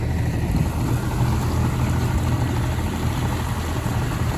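A boat motor idles steadily on the Yukon River, a close, even low rumble with continuous wash and no voices.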